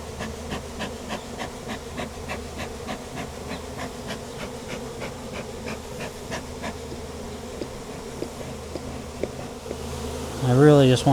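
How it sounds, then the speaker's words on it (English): A large wild honey bee swarm fanning on the ground by a barn before a storm fills the air with a steady, dense buzz, individual bees droning past close by, and a louder near pass at the end. "All the bees on the ground are fanning."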